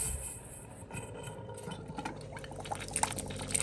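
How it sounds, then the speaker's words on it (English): Water rushes steadily from a faucet fed by a newly installed tankless reverse osmosis system, with a hissing, splashing flow, close by, and a few faint drips or clinks near the end. "Now let's turn on the faucet."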